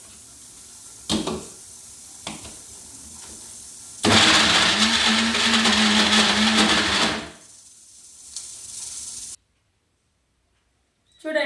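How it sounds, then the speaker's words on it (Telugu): A mixer grinder whirs loudly and steadily for about three seconds as it grinds mutton kheema, preceded by a few short clicks and handling sounds, then cuts off into near silence. "చూడండి, మిక్సీ పట్టినాక"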